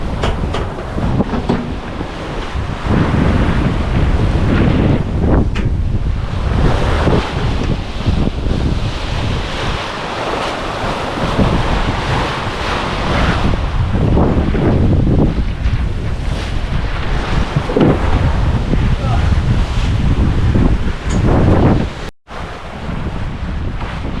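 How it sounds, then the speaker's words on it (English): Strong wind of about 20 knots roars across a sailing boat on the open Atlantic, mixed with rushing waves and hull noise, loud and continuous with no talk. "Because we got 20 knots of wind now"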